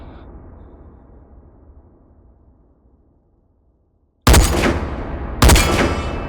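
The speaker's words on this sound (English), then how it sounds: "Am I shooting low or high?" Two loud, sharp scoped rifle shots about a second apart at the sniper range in the VR shooting game H3VR. Each crack rings out and decays after a quiet lead-in, with a faint fading tail before the first.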